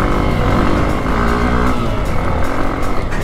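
A motorcycle launches hard across slick, muddy clay on a steep off-road adventure trail, its engine roaring loud and close throughout with steady, dense revving and no voices.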